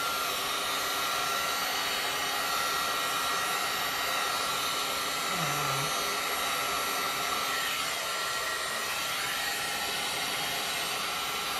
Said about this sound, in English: Here's the heat gun. And we're just going to have it on high.